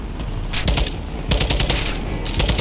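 Gunfire in the video game Call of Duty: Modern Warfare II: two loud, close bursts of rapid automatic fire, each lasting under a second with a short gap between, over a constant noisy battle backdrop.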